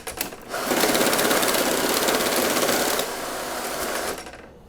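A Magner 175F banknote sorter counts and sorts hryvnia notes, giving a loud, fast mechanical whirring rattle of notes feeding through, steady for several seconds, then easing slightly before stopping.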